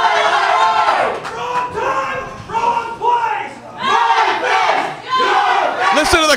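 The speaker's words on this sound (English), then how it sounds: "Listen to the crowd" Wrestling crowd at an independent show in Quincy chanting and cheering in loud rhythmic waves that rise and fall, with shouted voices over the din.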